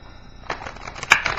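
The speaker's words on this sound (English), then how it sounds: "these are already shuffled. I'm just gonna cut them." A shuffled tarot deck is cut by hand, giving soft papery riffles and a crisp slap of cards, short and close with no talking.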